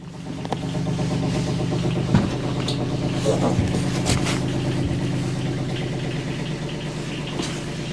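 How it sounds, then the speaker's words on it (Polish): Houseboat engine running steadily through its first test, a constant low drone with a few knocks and clatters on top and no speech. "Pierwsze testy silnika"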